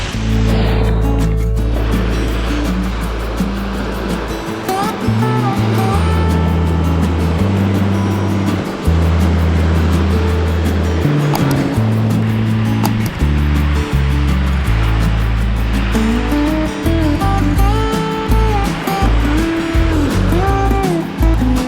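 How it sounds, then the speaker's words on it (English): Rough breaking waves on a Bay of Bengal beach at Bakkhali, West Bengal, a loud continuous wash of surf with a steady low rumble running throughout, no voices. "Enjoyed the rough breaking waves of Bay of Bengal for almost 1 hour."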